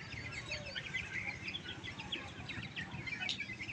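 Chicks and chickens kept in a backyard pen near pigeons chirp and cluck continuously, with many overlapping high peeps over a low rustling background, moderately close and with no talking.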